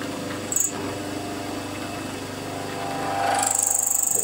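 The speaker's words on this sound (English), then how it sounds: "Another squeal in this corner" A milling machine's X-axis power feed runs with a steady mechanical hum, then rises into a high, thin squeal near the end, with a brief squeak earlier on.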